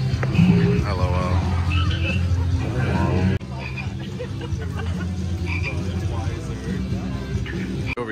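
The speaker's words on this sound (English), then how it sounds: "Looks like if you stand on the lily pads, the frogs make noise." Frog croaks sound from lily pads that trigger them when stepped on, in the Shrek swamp play area at Universal's DreamWorks Land theme park. The croaks repeat loudly and up close over steady crowd chatter and background voices.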